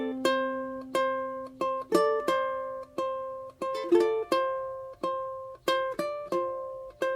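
Ukulele played fingerstyle, slowly picking measures of a piece, clear plucked notes ringing out one at a time in a gentle, steady rhythm with occasional doubled notes, close and clean without talking.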